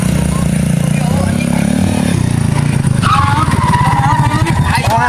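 Motocross dirt bike engine running close by, a steady buzzing drone that rises into revving and rough throttle pulses in the second half, with people talking over it.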